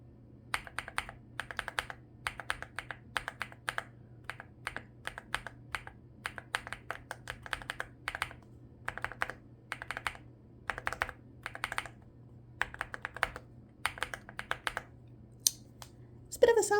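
Hi75 keyboard fitted with Wisteria linear switches and MOA keycaps being typed on in close, steady bursts of rapid clacking keystrokes with short pauses, over a faint low hum.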